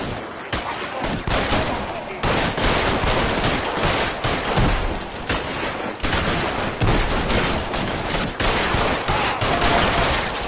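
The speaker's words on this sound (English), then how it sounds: "Nah, I'm in a shootout." Sustained video-game shootout gunfire with a police standoff: dense, rapid bursts of shots crackle continuously and loudly throughout, with occasional heavier reports and no clear talk.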